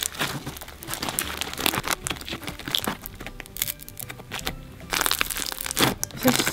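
Close, continuous crackling and crunching of crunchy slime being squeezed and squished by hand, dense bursts of popping clicks that swell louder toward the end, with no voices.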